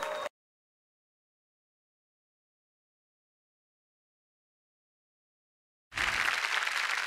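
Audience applause for actress Manasi Naik at a comedy stage show breaks out suddenly after a long silence, a loud, dense burst of clapping that fills the last second or so.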